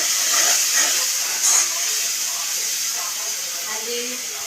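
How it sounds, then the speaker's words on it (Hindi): A steady loud hiss and sizzle of tempering (tadka) for dal, like hot oil crackling in a pan, continues throughout with a brief louder burst early on. "दाल में तड़का"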